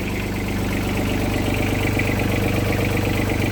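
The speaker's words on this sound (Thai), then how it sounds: "ตัวนี้เป็นเครื่องยนต์3สูบนะครับ รหัสเครื่อง3 TNV 76นะครับ" A Yanmar EF-120 tractor's three-cylinder 3TNV76 engine idles at a steady, even chug, heard close and moderately loud with no other sounds.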